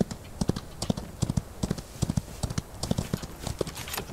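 Horse hooves clip-clop in a rhythmic, fairly close series of paired strikes throughout, in a cowboy-themed video game, with faint background ambience and no talk.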